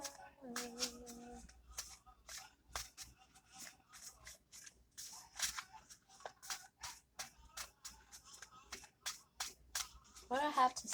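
Playing cards are shuffled repeatedly in a steady run of quick, crisp riffling bursts, close and fairly quiet, with a brief hum of voice at the start and a little speech near the end.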